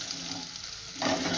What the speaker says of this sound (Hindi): इसको मिक्स करते रहें। इसको भूनना है थोड़ा सा।